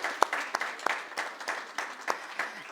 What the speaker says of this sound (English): And please give yourselves a round of applause.